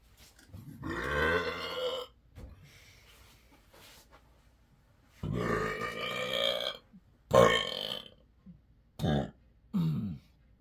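Several loud, drawn-out burps come after drinking carbonated Fanta orange soda, in four or five separate bursts with short pauses between them, close and resonant.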